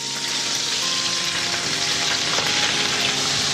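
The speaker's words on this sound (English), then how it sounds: "we're going to add this in there and fry all that off" Peppers frying in a pan for a seafood and chorizo paella, a loud, dense, steady sizzle with faint stirring, close up and without speech.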